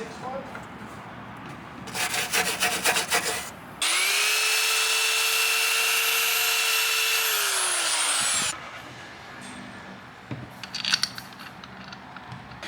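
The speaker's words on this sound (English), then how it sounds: "Sanding away the shitty sealer that was here, right? Just trying to get a smoother finish." A power sander grinds steadily for about five seconds, loud and close, stripping old sealer from a Toyota AE86 Trueno body during restoration, with scattered scraping, handling noises and brief voices before and after.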